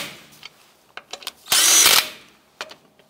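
Power tool snugging down wheel lug nuts on a 2004-2012 Chevy Colorado, with a single loud half-second burst of whirring after some light clicks and handling knocks, then a few more faint taps.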